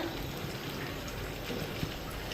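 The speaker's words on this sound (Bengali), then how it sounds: "এটা ভাজা হইতেছে" Battered leaf fritters frying in hot oil, a steady fine crackle and bubbling sizzle heard close up and alone, with no talking.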